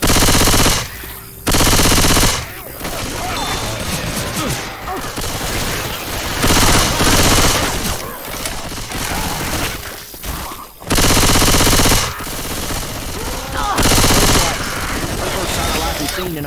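Heavy gunfire in the zombie shooter Left 4 Dead 2, sustained automatic fire packed with loud blasts and surges, with players shouting over the shooting.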